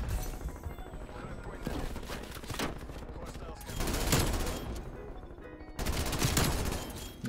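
Rapid bursts of PPSh-41 submachine gun fire in Call of Duty Cold War rattle out in several long strings separated by brief pauses, dense and loud, with faint talk mixed underneath.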